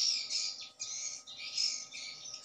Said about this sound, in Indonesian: karena suara walet itu, suara yang kita pakai terkadang ada yang besar, ada yang kecil